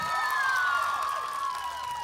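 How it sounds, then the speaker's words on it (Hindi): A college audience cheers for the mothers among them, with steady crowd noise and shrill whistle-like whoops sliding over it for a couple of seconds. "सभी मदर्स के लिए एक बार जोरदार तालियां हो जाए भाई।"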